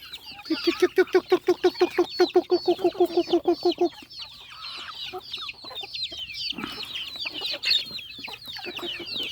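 Chickens cluck in a quick, rhythmic burst of repeated notes, then softer scattered clucks and chirps continue nearby.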